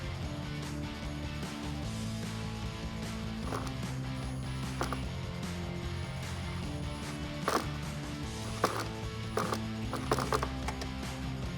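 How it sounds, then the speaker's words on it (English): A ratchet with a 7mm socket on a swivel extension tightens a bolt on a rear bumper reflector light of a Jeep Wrangler JL, making a rapid, repeated clicking that runs steadily and close by. "we have our 7mm socket with a swivel extension and an extension."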